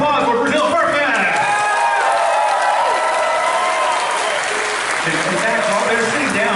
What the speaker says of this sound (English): Big round of applause for Brazil Fur Fest